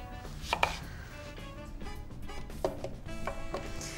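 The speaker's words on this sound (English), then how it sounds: "Cut off the ends, and then just cut it in half and do big wedges" A knife cuts through a lemon on a board, trimming the ends, halving it and slicing big wedges, giving a few sharp, close chops spaced unevenly between quieter handling sounds.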